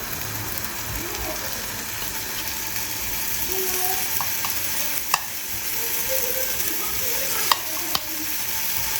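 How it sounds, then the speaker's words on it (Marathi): Paneer shallow-fries in a little oil in a pan, a steady close sizzle with stirring scrapes and a few sharp spatula clicks near the end, while a voice talks faintly. "याला शॅलो फ्राय करायचं आहे पनीरला थोडंसं तेल ॲड करतो"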